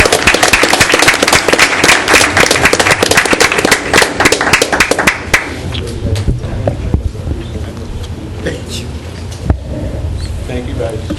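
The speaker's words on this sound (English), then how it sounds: "I think another round of applause is absolutely worth it" Loud applause fills a town council meeting hall, dense clapping from many people for about five seconds before fading into scattered claps and room murmur.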